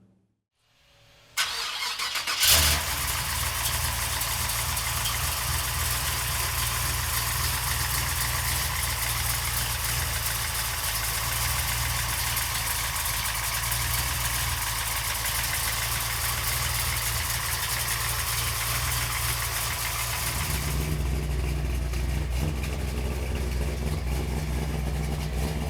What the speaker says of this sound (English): we're gonna fire it up now